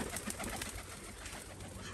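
Domestic pigeons in a loft give soft, continuous cooing over a steady murmur of background noise, close and moderately quiet.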